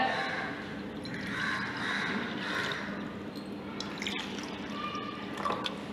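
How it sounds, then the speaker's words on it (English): Water is poured into a glass beaker for a school chemistry solutions demonstration, giving a splashy, trickling sound at close range that fades to a few drips. "First, you have to add some water."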